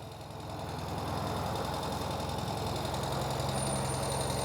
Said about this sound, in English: So we can hear that idling very nicely.